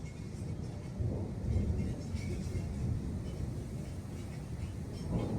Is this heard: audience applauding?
no